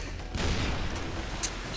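A grenade goes off in a first-person shooter game, a booming blast with a rumbling tail that fills the short clip, ending with a small sharp click.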